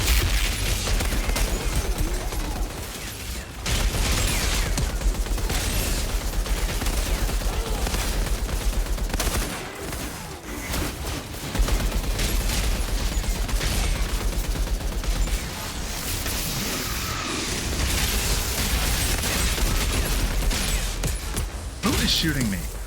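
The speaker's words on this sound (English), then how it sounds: "Who is shooting me?" Heavy, continuous gunfire aimed at the player in Outriders Worldslayer, loud and dense with only short breaks, while a person talks over it.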